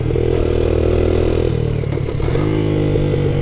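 Honda Dax 100 semi-automatic pocket bike engine running loudly up close, a steady throbbing idle with a small rev and shift in pitch partway through, no talking over it.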